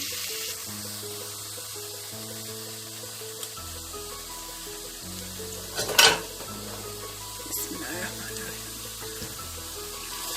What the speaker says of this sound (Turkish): Şimdi etimizi suyuyla birlikte tencereme alacağım.